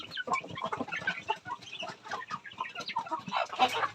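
Several chickens cluck and chatter continuously up close, a busy overlapping flock with no talking.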